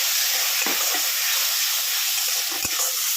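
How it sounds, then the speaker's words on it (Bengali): Tomatoes frying with a splash of water in a pan, a loud continuous hiss and sizzle with a couple of stirring knocks, no talk. "টমেটো গুলোকে দিয়ে দিলাম, দিয়ে একটু ভাজা ভাজা করে নিচ্ছি।"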